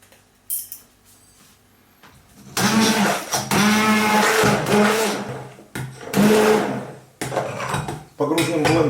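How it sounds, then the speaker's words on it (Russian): An immersion blender whirs in bursts while making banana pancake batter, starting and stopping several times, loud and close, with clattering in the quiet gaps. "Я воспользуюсь погружным блендером."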